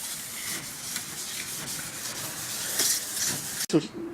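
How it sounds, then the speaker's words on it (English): A cloth wiping a surface down with thinners in steady, breathy back-and-forth strokes, close by, ending with a sharp knock and brief scuffle. "I'm going to actually wipe it down with just some thinners just to remove any excess dust."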